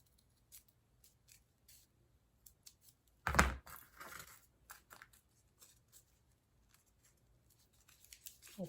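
Scissors cut through a coffee filter to shape a petal, with a series of soft, quiet snips and one louder crisp cut partway through, close up.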